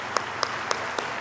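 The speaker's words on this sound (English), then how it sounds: "So I'd definitely like to get a round of applause for that." Faint audience applause at a garden gala, with four distinct, evenly spaced claps standing out over a soft background wash.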